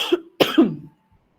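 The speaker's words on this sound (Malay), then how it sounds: "Sekejap, batuk pula." A person coughs twice at close range, a short cough followed a moment later by a longer, rougher one, with quiet in between and no talking.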